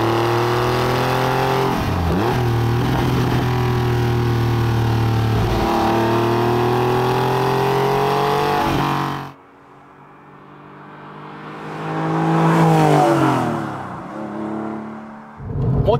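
A 1999 Porsche 911 GT3 (996) flat-six engine accelerates hard through the revs, briefly cuts out on a gear change, then surges and climbs again, loud and close.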